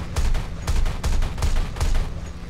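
Aircraft guns fire in War Thunder, loud rapid bursts of automatic fire that come in several short volleys with brief gaps between them, heavy and close.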